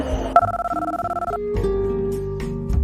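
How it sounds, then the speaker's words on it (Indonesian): A telephone rings for an incoming call with a rapid trilling bell, then a tonal ringtone melody follows, close and clear with no voices. "getar di saku celananya juga suara di mobilnya yang menandakan bahwa ada telepon masuk"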